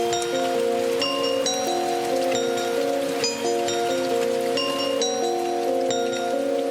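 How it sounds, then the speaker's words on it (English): A rain sound effect adds a soft, continuous hiss beneath a dark trap-style beat with repeating synth notes. The rain stays steady throughout and sits under the melody. "I got some rain sounds."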